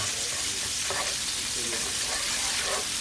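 Bacon and asparagus fry in a skillet with a loud, dense, continuous sizzle up close. The crackle and spatter stay steady for a few seconds with no talking.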